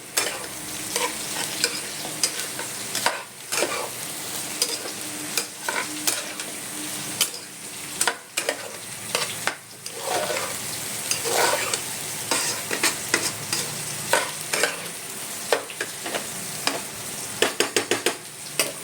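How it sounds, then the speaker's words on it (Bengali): Food stirred in a hot frying pan, a steady sizzle broken by repeated scraping strokes of the spoon, close and fairly loud, with no talking. "এবার নাড়বো"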